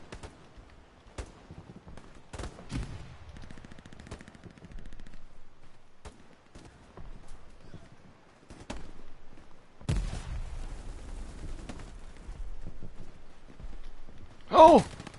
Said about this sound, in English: I end up shooting more bullets than I need to.